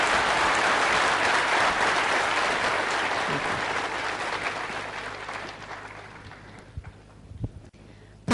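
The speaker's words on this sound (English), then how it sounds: "One more big round of applause to him with that wonderful start." Audience applause after a talk on advice to young software developers, a dense broad clatter of clapping that holds strong for several seconds, then thins and fades with a few scattered late claps.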